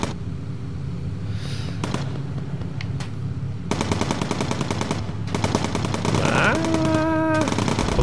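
Rapid bursts of machine gun fire rattle loudly in the Bomber Crew video game, layered over engine drone and other game effects, with sustained chattering volleys in the latter half and a rising electronic tone near the end.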